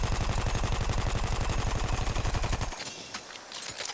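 A Parabellum machine gun in Battlefield 1 fires a rapid, evenly spaced stream of loud close shots for about two and a half seconds, then stops abruptly, leaving a few faint clicks and rattles.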